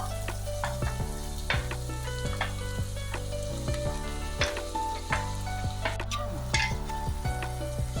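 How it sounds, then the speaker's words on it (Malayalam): Chopped large onions sauté in hot oil for pav bhaji, giving a continuous close sizzle punctuated by repeated scraping and stirring knocks of a utensil against the pan. "എണ്ണ ചൂടായി കഴിഞ്ഞാൽ നമ്മൾ നേരത്തെ ചോപ്പ് ചെയ്ത് വെച്ചിരിക്കുന്ന ആ ഉള്ളിയാണ് ഇടുന്നത്, വലിയ സവോള."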